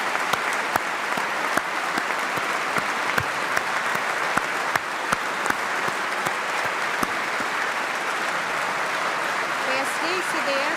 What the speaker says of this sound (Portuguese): PSD e CDS aplaudem.